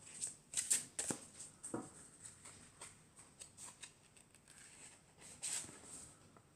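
Cards from an angels and crystals oracle deck being shuffled and drawn, soft repeated riffling flicks and papery slides, close and quiet, with no talking.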